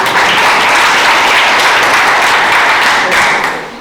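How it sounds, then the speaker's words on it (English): Audience applause at a student guild presidency election gathering at a health sciences institute, steady and loud dense clapping that holds for several seconds, then tapers slightly at the end. "I would like to allow you to thank yourself by giving yourself a clap"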